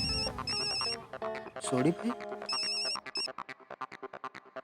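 A phone on speaker rings out on an outgoing call, its repeated melodic ringtone phrases playing loudly for a few seconds, with a voice briefly calling out over it before it cuts off.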